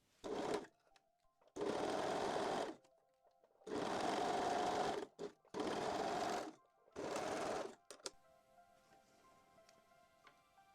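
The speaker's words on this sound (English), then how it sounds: "And sew the crotch seam." A sewing machine stitches the crotch seam of full lace Brazilian panties in four short close bursts of rapid whirring, separated by brief pauses with faint clicks.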